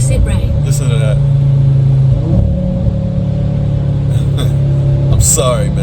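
A 2022 Audi RS3 fitted with a new exhaust drives along at steady throttle, its deep engine drone loud and continuous with brief rises in revs, while someone talks over it throughout.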